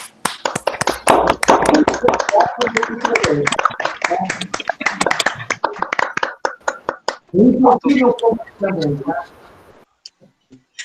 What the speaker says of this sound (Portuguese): mais uma salva de palmas agora para a professora e para todos